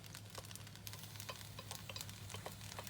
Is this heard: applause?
no